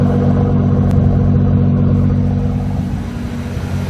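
A car engine, just fitted with an Aeromotive fuel pressure regulator on the stock fuel rail, idles close by with a deep, steady rumble that eases slightly toward the end.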